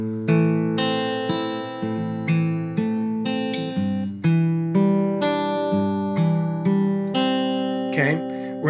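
A solo acoustic guitar runs through the fingerpicked arpeggios of a song, a steady stream of plucked notes with chords left ringing so they bleed together, close and clear.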